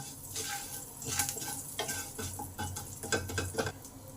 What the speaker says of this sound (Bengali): সামান্য পরিমাণ রাই দিলাম, অল্প কাঁচা লঙ্কা দিলাম। এগুলোকে একটু ভেজে নিলাম।